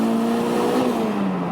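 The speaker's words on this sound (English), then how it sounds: "let's go ahead and play with second gear. Here we go, I'm rolling into it." A Toyota MR2 Turbo accelerating in second gear, a steady loud engine drone with a rising tone that holds close and continuous throughout, no talking.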